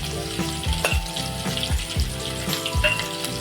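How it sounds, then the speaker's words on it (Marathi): Chopped onion sizzles in hot oil with garlic in a pan, a steady frying crackle broken by regular scraping strokes of a spoon stirring, close and fairly loud, no voices. "कांदासुद्धा आपल्याला मस्त असा फ्राय करून घ्यायचा आहे"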